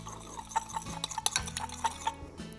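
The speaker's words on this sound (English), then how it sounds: "Just give that a mix around" Baking soda is stirred into water for ANZAC biscuits: a spoon scrapes and clinks lightly against the container in a quick, irregular series of small taps, quiet and close, with no talking.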